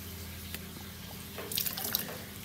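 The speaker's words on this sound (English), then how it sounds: "We'll just get a siphon going here" Water trickles and drips steadily as a siphon draws tank water from a fish shipping bag into an aquarium holding golden perch, with a brief louder splashing gurgle midway.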